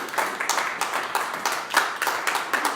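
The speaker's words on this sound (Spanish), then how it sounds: "Denle un aplauso al Señor, por favor." A church congregation claps in a lively, uneven burst of applause, with many hands striking close together and a steady stream of sharp claps lasting just under three seconds.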